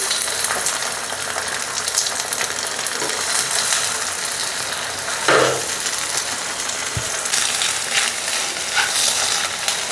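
Beaten egg scrambling in a hot pan for egg idiyappam, with a steady broadband sizzle throughout and occasional scraping stirs of a utensil, fairly close and continuous.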